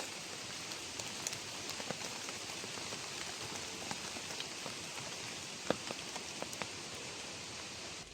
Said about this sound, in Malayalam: പക്ഷേ മഴയും കൂടി പെയ്യുന്നേ, നല്ല രസമുണ്ട്